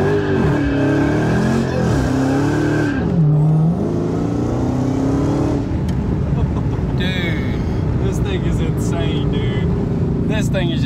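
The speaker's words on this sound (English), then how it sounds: "we're gonna go ahead and fire this sucker up, do a couple rips in it" A 700-horsepower car engine revs hard in repeated rising and falling bursts, loud and close, then settles into a rough, roaring run with sharper high-pitched bursts near the end.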